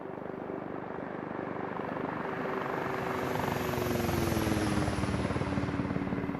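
A helicopter in the X-Plane 12 flight simulator makes a flyby, its steady rotor thump and turbine whine swelling louder as it passes, with a slight pitch drop near the end.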